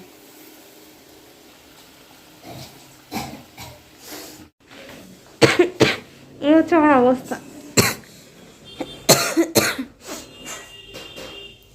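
A woman coughs several times in short bursts, close up, her coughing set off by sharp chilli fumes from home cooking; she also talks briefly between the coughs.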